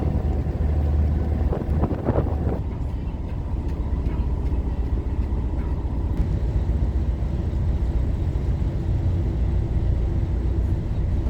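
Boat docking at a pier with a motorcycle aboard: a steady low engine rumble and broad wind-and-water noise run throughout, with a few brief knocks near the start and no speech.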